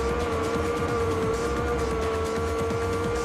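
A racing car engine in Gran Turismo 3 holds a steady, high-pitched whine with a droning tone beneath, continuous and fairly quiet, with faint tire and road texture and no speech.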